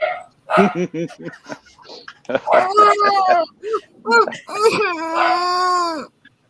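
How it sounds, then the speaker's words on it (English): A dog indoors gives a string of loud, close vocal bursts, yelping and rising whine-like howls that come in uneven clusters with brief gaps between them. "that's my dang dog"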